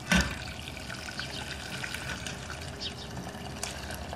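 Dark liquid made with molasses and lemon pieces, a drink for ducks, is strained from a pan through a colander into a second pot, a soft continuous trickle and pour heard up close after a brief knock.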